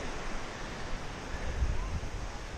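Surf breaking along the beach at Hunting Island, a steady wash of waves with some wind buffeting, fairly faint and continuous.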